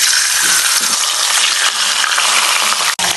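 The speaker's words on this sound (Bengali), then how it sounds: "মাছের মাথাটাকে ভাজার জন্য দিয়ে দিচ্ছি সরষের তেল।" Katla fish heads frying in hot mustard oil, a loud, dense crackling sizzle sustained throughout, with a brief sharp clink near the end and no voices.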